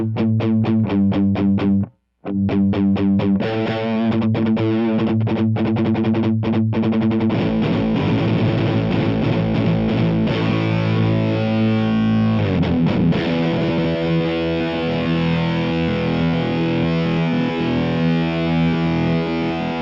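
An electric guitar through an Emma Electronic Okto-Nøjs dual octave pedal, thick and distorted, with doubled layered tones; after a brief dropout it becomes a dense, sustained wall of chords.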